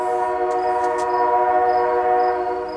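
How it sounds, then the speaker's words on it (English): A train horn blares as a steady, loud, sustained multi-tone chord for nearly three seconds, with the rumble of the passing train beneath, heard outdoors beside a backyard smoker. "The train is coming through."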